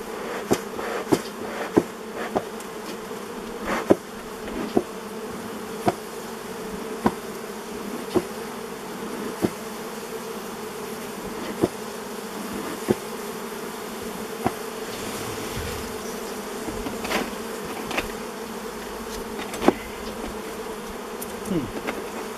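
Bees swarm and buzz around an old beehive opened after more than thirty years, a dense steady drone up close with occasional sharp taps and knocks over it.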